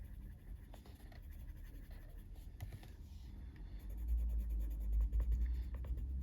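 Coloured pencils (Coloursoft) rub on paper in a Flowerscape in Paradise colouring book under hard pressure, giving steady, quiet scratchy strokes close up, with a low rumble growing louder in the second half.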